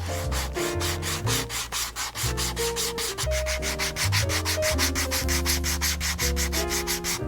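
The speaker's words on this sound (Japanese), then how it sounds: "今度はサンドペーパーでやすります。" Sandpaper rubs in fast, regular strokes along the edge of a cordovan leather shoe sole. The steady raspy scratching sounds close and has no talk over it.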